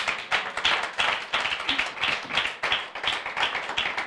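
A church congregation claps in a steady, rhythmic beat during a worship service, each clap crisp and close, forming an even pulse of roughly three claps per second with no voices over it.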